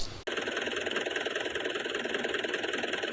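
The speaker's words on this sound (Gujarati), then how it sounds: "કેમ મહિન્દ્રા છે 575 એટલે તાકાતમાં તાકાતવાળું ટ્રેક્ટર કહેવાય" A Mahindra 575 tractor engine idling in a steady low rumble. It sounds close and continuous after an abrupt start, with a faint vibrating rattle and no talk over it.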